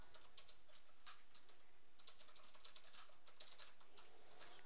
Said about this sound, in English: all we do is type our text in here.